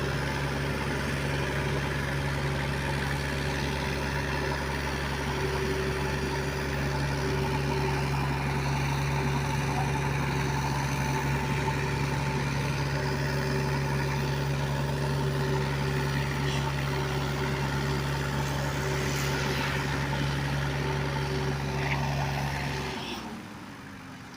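A tractor engine idles at a brick-making site, giving a steady, close, low droning hum with a constant tonal whine. It runs unchanged for about twenty-four seconds before cutting off abruptly at the end.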